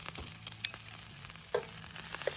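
Sausage with pepper and onions frying at a campsite, a quiet low sizzle with a few soft clinks and scrapes over a faint background hum, no one talking.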